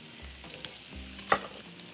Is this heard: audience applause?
no